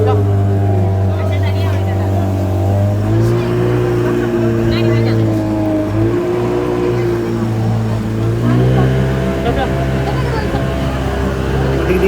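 A motorboat engine at Brindavan Garden in Mysuru drones loudly and steadily, with its pitch rising and falling now and then, and faint voices in the background.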